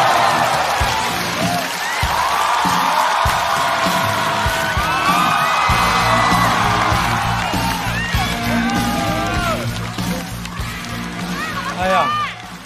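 A stand-up comedy show audience breaks into loud applause, cheers and whoops that fill the room for several seconds, with a host's voice calling out over the crowd.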